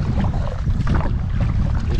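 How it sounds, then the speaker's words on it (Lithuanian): A kayak is paddled upriver against a headwind and weak current, with steady broadband wind and water rush filling the whole short stretch loudly and close. "Žodžiu, kapoju prieš vėją."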